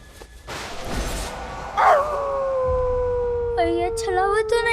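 A dog howls in long, wavering, rising and falling tones, joined by a second warbling howl toward the end, loud and close, with a voice speaking briefly before it.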